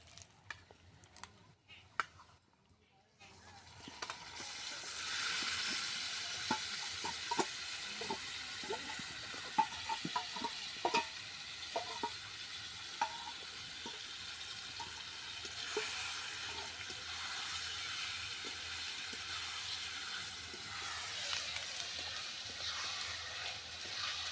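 Marinated chicken frying in a pan, a broad continuous hiss and sizzle that starts after a few seconds of light knocks and holds steadily with occasional stirring clicks.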